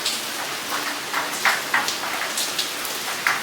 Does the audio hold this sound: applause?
no